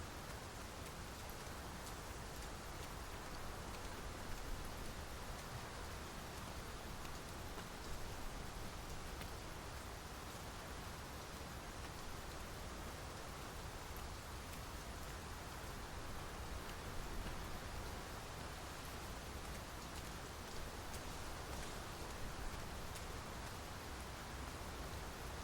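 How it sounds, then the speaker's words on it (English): Heavy rain pours down in a steady, unbroken hiss, a dense wash of drops that neither builds nor eases and plays alone without any voices. "It is really coming down. We can push through a bit of rain"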